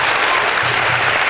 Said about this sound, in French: Applaudissez pour vous.